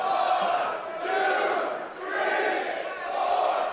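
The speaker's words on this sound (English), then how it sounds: "You hear the crowd chanting." A wrestling event crowd chants in unison, rhythmic swelling shouts rising and falling in repeated phrases roughly every second, loud and filling an arena.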